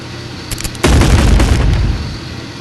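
Loud grenade launcher explosions in the video game Animal Company, with a few quick pops and then one big booming blast that rolls on and fades slowly.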